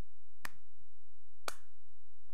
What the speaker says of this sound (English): If you watch and I clap